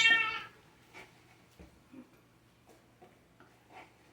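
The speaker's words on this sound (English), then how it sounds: "that was Chloe the cat" A pet cat gives one loud meow at the start, followed by a few fainter, scattered light clicks and small sounds in an otherwise quiet kitchen.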